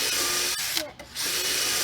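Power drill bores holes through a wooden raised bed, a loud, steady high whine that drops out briefly midway and then resumes, close up.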